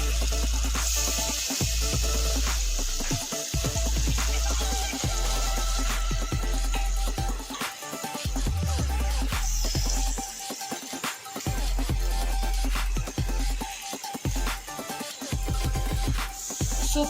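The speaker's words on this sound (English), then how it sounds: "So place it and then let it grill for some time" Paneer tikka pieces sizzle steadily on an oiled grill pan, a continuous loud frying hiss with occasional crackles and soft knocks from the pan.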